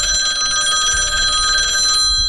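An old telephone rings with a loud, continuous metallic bell, sustained through the whole stretch with no talking over it.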